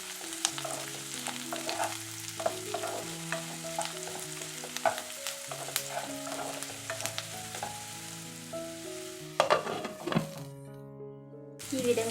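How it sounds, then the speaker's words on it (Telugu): Carrots frying with garlic in a pan, a continuous sizzle with frequent scraping and clacking as a utensil stirs them, close and busy, without talk. "దీనిని మనం అప్పుడప్పుడు తిప్పుకుంటూ వేయించుకోవాలండి"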